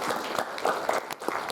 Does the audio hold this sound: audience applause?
yes